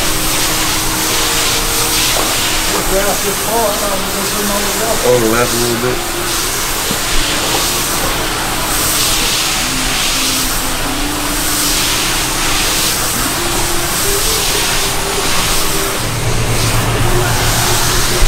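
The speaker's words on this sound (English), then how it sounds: "spraying on here, on the grease, you can hear it kind of like, it's hitting it different." A pressure washer set to 400 PSI sprays heavily onto a greasy, long-uncleaned skating rink floor in cold conditions, a steady broadband hiss running throughout while someone talks over it.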